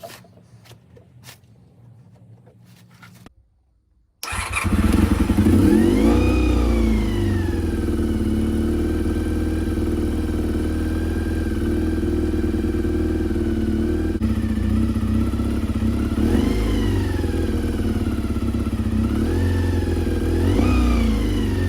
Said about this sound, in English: Alright guys, so I got the bike running.